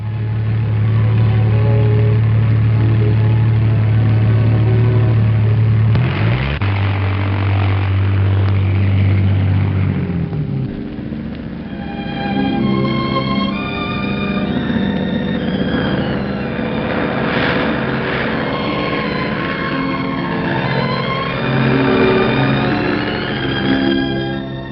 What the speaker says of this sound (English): The engines burst into life.